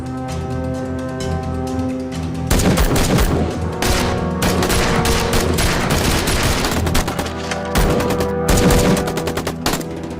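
Sustained video game gunfire from a military-style squad shooter, dense rapid automatic bursts and volleys running almost continuously for about ten seconds, loud and close, with brief gaps between bursts.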